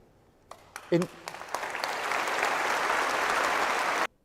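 A round of applause breaks out after a few scattered early claps, swelling into a steady wash of clapping that holds for about three seconds before cutting off abruptly.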